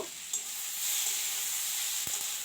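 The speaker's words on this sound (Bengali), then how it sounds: "আমি হালকা করে সব কিছু ভাজা করে নেব" Spices with small puti fish fry in oil with salt and turmeric, a close, continuous bright sizzle with a brief stirring knock.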